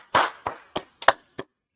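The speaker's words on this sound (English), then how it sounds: "let's clap it up for the Most High God." Brief burst of hand claps from a gathered audience at a religious teaching, a loud initial clap followed by four or five scattered, fading claps, close and clear with no talk.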